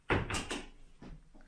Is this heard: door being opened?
yes